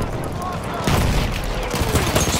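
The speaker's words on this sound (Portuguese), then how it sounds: "Espere até a barragem de artilharia do inimigo parar." Enemy artillery barrage in Battlefield 1, set in the Argonne Forest, with a dense fusillade of loud gunfire and booming impacts that intensifies partway through.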